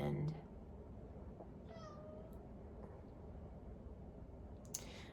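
A house cat gives a short, faint meow near the middle, heard briefly over a steady background hiss in an indoor craft room.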